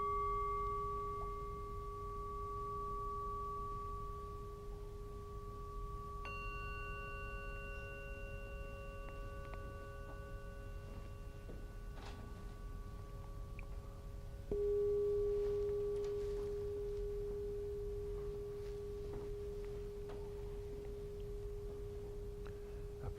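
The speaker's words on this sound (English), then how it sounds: "Listen to the bell." Meditation bells struck one after another in a quiet room, each clear tone ringing and decaying slowly, with new strikes layering over lingering tones against faint background hiss.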